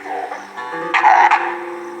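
A pack of wild dogs in the wild, yelping and whining calls that rise to a louder burst in the middle, close and tonal with a faint background hum.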